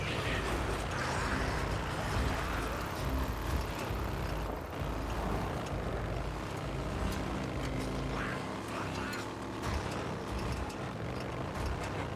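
Vehicle driving in the video game Days Gone, a continuous engine drone and road rumble holding steady throughout, fairly close and even.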